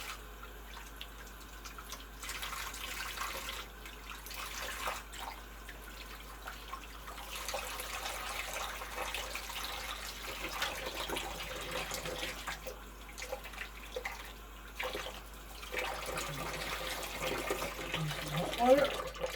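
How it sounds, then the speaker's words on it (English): Tap water running steadily while hands are washed with Ivory soap, a continuous splashing wash with small drips, heard close up under a person talking. "I'm going to wash them with the remainder of the soap and water."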